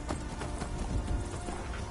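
Galloping horse hooves in a video game, a steady clip-clop rhythm running through the whole stretch at moderate level over low rumbling game ambience, with a possible brief whinny.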